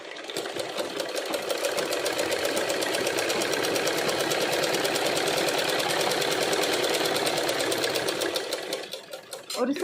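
Sewing machine stitching along one side of a silk skirt, a loud, continuous rapid whirring chatter that runs steadily throughout, then slows and stops briefly near the end before restarting.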